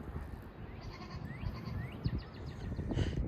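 Goats near an electric fence give a few short, thin bleats over a rustling, noisy outdoor background.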